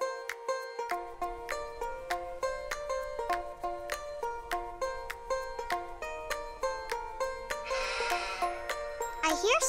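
Sheep bleating in an animal pen, a repeated series of bright, wavering bleats in a steady rhythm, fairly close, with a brief rustle near the end and no speech.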